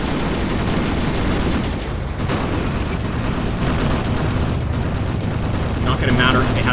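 Gunfire and explosions from the tactical war game Graviteam Tactics, set in Afghanistan in 1980, form a dense, continuous rumble of shots and blasts with no pauses.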